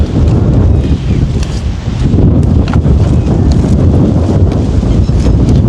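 Strong steady wind buffets an outdoor chilli pepper field during harvest, a dense continuous rumble of wind on the microphone that stays loud throughout, with no clear voices.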